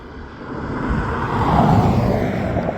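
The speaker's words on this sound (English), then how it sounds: "I can hear a car coming, so I'm gonna wait for a minute" A car approaching on Montezuma Valley Road, a broad rushing roar of engine and tires that swells steadily and stays loud and near.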